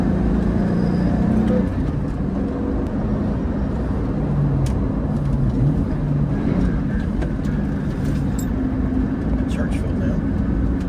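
A modified front-heavy car driven hard through corners, its engine droning and revving steadily up close with road noise, while a driver talks over it.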